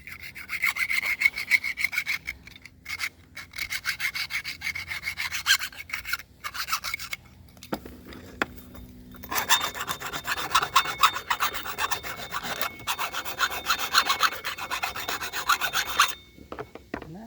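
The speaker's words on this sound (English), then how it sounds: "Run that hand file inside there one more time." A hand file rasps inside a metal part in repeated close strokes, some quick and others long and continuous, with short pauses between passes and no voices.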